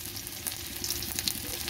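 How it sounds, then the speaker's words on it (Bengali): Chopped garlic sizzles and fries in hot oil left over from frying, a steady close crackle with bright spitting pops for under two seconds, with no voices. "এবার সেই তেলেই আমি রসুন ফোড়ন দিয়ে দিচ্ছি"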